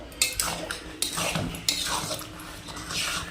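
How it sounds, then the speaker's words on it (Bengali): A metal spatula scrapes and knocks against a pan while stirring mashed sidol, a traditional North Bengal dish, giving several clanks and scraping strokes at an uneven rhythm, close and fairly loud, with no talk. "এখন খুন্তি দিয়ে ভালোভাবে নাড়িয়ে নেব"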